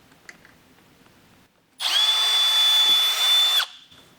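A power drill bores into the plastic fender of a 2023+ Speed UTV El Jefe while fitting a Rokblokz fender extension, one close, loud, steady whine lasting about two seconds, with quiet moments before and after.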